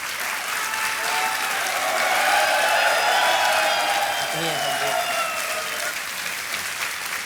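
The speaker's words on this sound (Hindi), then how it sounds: "तालियां बजती रहनी चाहिए।" Studio audience applause on a television quiz show, a continuous loud wash of clapping that swells in the middle while a host's voice carries on over it.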